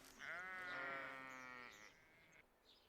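A single sheep gives one drawn-out wavering bleat among orange groves in quiet countryside, fairly close, followed by a faint softer call.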